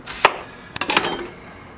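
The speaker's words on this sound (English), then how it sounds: "Chopped up our onion." An onion being chopped with a knife on a board, a sharp chop followed by a quick cluster of close, crisp cuts, with no talking.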